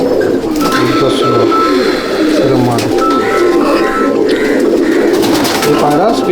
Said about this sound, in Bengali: এই পায়রা স্পেশাল